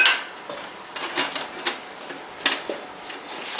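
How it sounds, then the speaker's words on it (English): A utensil stirs flour into onions and green peppers sautéed in butter in a pan, making sparse, quiet scrapes and light clinks at irregular intervals with no talking. "Once those are nice and tender, you're going to add in about a 1/3 cup of flour. Stir that around."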